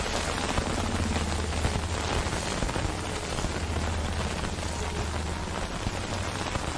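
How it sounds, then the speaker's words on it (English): Heavy rain pours over a swamp in the game S.T.A.L.K.E.R. Call of Chernobyl, a dense, continuous patter with a low rumbling undertone, fairly quiet and steady throughout. "The swamp plus the sound of rain just doesn't mix."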